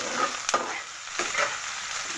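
Onions frying in a pan with ginger-garlic paste, a steady close sizzle broken by a couple of sharp scraping stirs of a spatula, with no voices.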